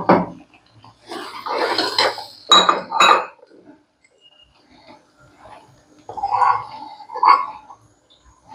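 Rinse water from a mixer jar, used to wash out ground red chillies, kokum and curry leaves for a Malvani fish curry, pours into a pot in a few short splashing and clinking bursts separated by quiet gaps.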